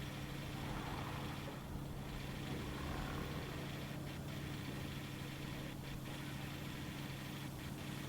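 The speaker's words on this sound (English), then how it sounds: "Sounds like he needs a little engine work too." A low, rumbling video game car engine idles steadily with a rough, uneven drone, running poorly, fairly quiet and constant throughout.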